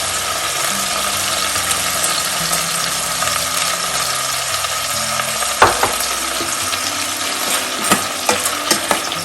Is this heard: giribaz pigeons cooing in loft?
no